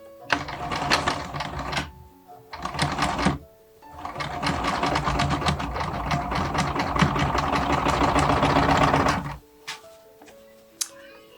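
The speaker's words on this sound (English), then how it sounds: "now I'm going to do a top stitch along the top here" Sewing machine top stitching along the edge of a vintage-style doll dress, running in rapid bursts: two short runs, then a long steady stretch of stitching, ending with faint handling clicks.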